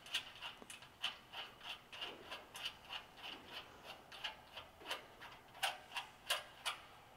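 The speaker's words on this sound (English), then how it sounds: "Take our wrenches and snug it up" Ratcheting wrenches snug a nut onto a bolt during assembly, giving a quiet, steady run of rhythmic clicking strokes, roughly two per second, close by with no voices.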